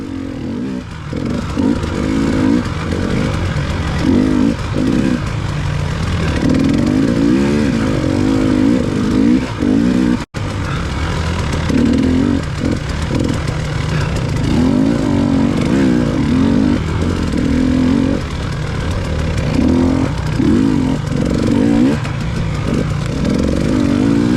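A dirt bike ridden through mud and ruts in a hare scramble race: the engine revs and bogs in repeated surges, loud and close throughout, with clattering from the rough terrain.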